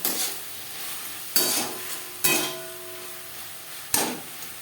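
Onion and tomato stirred and fried in a pan for tilapia fish curry: four sharp clanks of a spatula against metal, each one followed by a fading sizzle.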